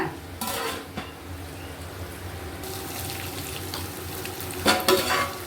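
Mutton biryani broth in a cooking pot, a steady bubbling simmer filling the whole clip, with a metallic clank near the start and a burst of louder clattering toward the end, like a lid or spoon against the vessel.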